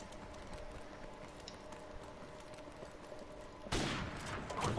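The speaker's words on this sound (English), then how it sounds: "That was clearly a shot right there." A gunshot sounds in the video game Call of Duty: Modern Warfare Remastered: a single sudden crack over a faint, steady background of game sound, fairly quiet overall.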